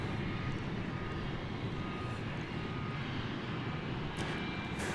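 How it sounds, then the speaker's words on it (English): An Airbus A300 airliner being pushed back at DFW airport at night gives off a steady, faint, distant jet whine and rumble, with a couple of brief higher beeps near the end. "That is an A300 now backing out, or being backed out."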